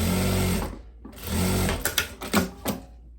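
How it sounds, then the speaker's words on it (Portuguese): A sewing machine stitching a seam on a viscose dress, running in a loud steady whir for nearly a second, pausing, then resuming with short stop-start bursts, close and alone. "E passo uma costura aqui."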